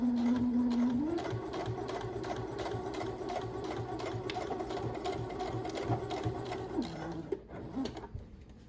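Sewing machine stitching a dart into a denim face mask, running steadily close up with a brief reverse near the start, then slowing and stopping near the end.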